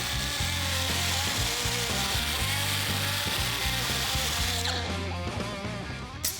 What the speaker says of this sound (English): We'll follow that up with a 7-inch grinder to clean up the jagged edges that were left behind by the plasma torch.